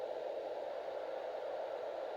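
A compact portable sound machine playing soft white noise, a steady, even hiss like gentle ocean surf that stays constant without pauses or changes.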